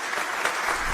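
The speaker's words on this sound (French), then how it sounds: "Applaudissons-la chaleureusement." An audience at a talent contest applauds warmly as a contestant is welcomed on stage, a short burst of dense, steady clapping.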